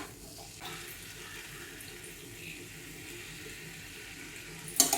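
A little water is poured over potatoes and pointed gourd cooking in spices in a pan, making a steady close pouring wash that runs on, then ends in a brief clatter.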